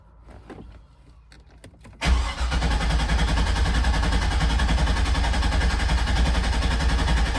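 A C5 Corvette engine fires up abruptly after a couple of seconds of quiet with faint clicks, then settles into a loud, steady, close-up running rumble with no talking.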